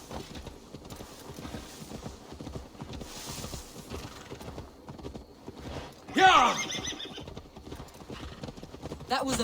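Horse hooves clip-clop steadily in Assassin's Creed Valhalla, with a whinny and a louder burst of action partway through, under ongoing game sounds.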